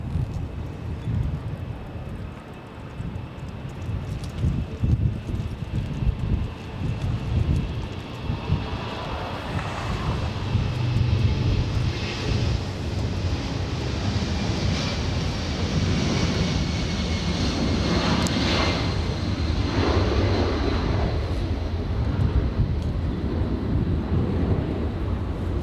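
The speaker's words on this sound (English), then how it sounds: "And the 757 Delta Airlines that was lined up and now on the move" Delta Air Lines Boeing 757 rolling for takeoff at LAX, its jet roar building from a low rumble into a loud, sustained blast mixed with wind buffeting.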